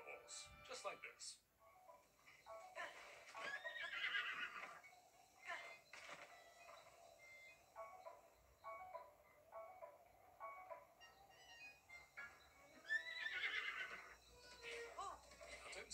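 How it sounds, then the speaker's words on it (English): Horse sounds in The Legend of Zelda video game: repeated whinnies and neighs come in bursts over light rhythmic galloping hoofbeats, fairly faint and layered with game sound effects. "So we're gonna gallop to the top of this mountain and jump off our horse and onto another horse."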